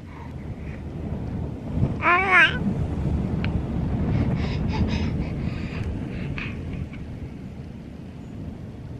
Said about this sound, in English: Super, super windy out today.